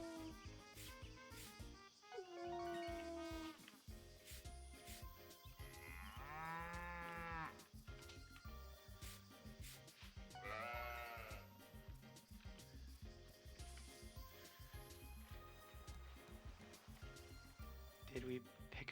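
Cartoonish alpaca calls from the farming video game Story of Seasons: a few short, warbling bleat-like cries rise and fall at intervals over busy, constant background game music.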